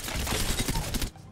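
Gunfire from a weapon in Apex Legends Season 17, fired in a dense, continuous burst of rapid loud shots for about a second before cutting off abruptly.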